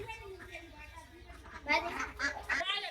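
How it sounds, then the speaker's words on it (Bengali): Ducks quacking nearby at an outdoor picnic in Bangladesh, a run of nasal, repeated calls growing louder toward the end, mixed with children's voices and background chatter. "দাওয়াত খাওয়ার জন্য হাঁসও চলে আসলো।"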